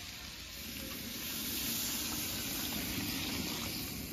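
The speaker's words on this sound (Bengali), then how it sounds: "আলুটা কষানো হয়ে গেছে, এরপরে জল দিয়ে দেব" Water hitting a pan of sautéed potatoes seasoned with salt and turmeric, a loud steady hiss and bubbling rush that swells after the first second and holds, close up with no voices.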